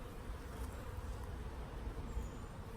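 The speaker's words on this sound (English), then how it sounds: "I've got a little bee." Honeybees from a newly installed package hum in a low, steady, quiet drone, close and continuous with no talking.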